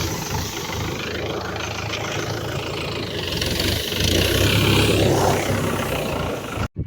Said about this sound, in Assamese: বৰ্তমান ট্ৰেক্টৰ দি হাল মাৰি আছে